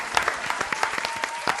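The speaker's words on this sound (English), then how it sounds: "Give the Lord a round of applause." A short burst of applause with scattered, uneven hand claps from a small group, close and fairly loud, with no voices over it.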